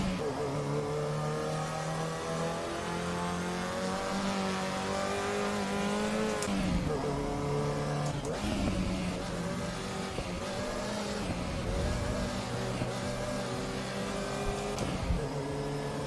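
A race car engine in the sim racing game Assetto Corsa EVO holds a loud, steady droning note, with abrupt shifts and bursts of revving partway through.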